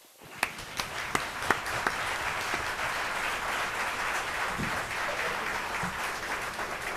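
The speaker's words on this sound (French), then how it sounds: "je vous invite à leur donner une bonne main d'applaudissements" Audience at a municipal election candidates' presentation in La Tuque breaking into sustained applause, starting with a few sharp claps and swelling to a dense, steady ovation from a moderately distant room.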